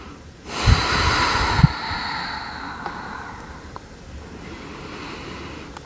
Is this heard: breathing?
yes